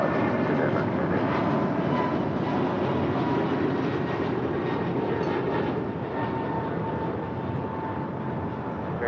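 An American Airlines A321neo taking off, a loud, steady broadband jet roar filling the whole stretch with slight fluctuation, heard from fairly close with no clear talk on top.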